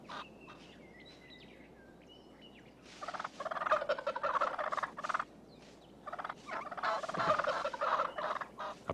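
Wild turkey gobbling, two loud rolling bursts a few seconds apart, preceded by faint chirping birdsong against a quiet outdoor background.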